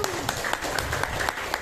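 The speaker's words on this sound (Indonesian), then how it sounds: "tepuk tangan." A class breaks into brief scattered applause, a quick patter of clapping hands with a few louder individual claps standing out over background murmur.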